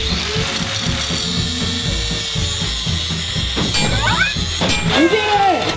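A hand tool cutting down a piece of rebar for a DIY Christmas decoration craft, giving a close, loud, repetitive ratcheting grind throughout, with a few sharp metallic squeals near the end.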